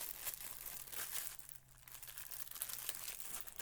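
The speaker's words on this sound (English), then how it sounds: "More crinkling, sorry." Plastic packaging crinkled close up in the hands, a steady, dense crackling that runs without pause for a few seconds, fairly quiet overall.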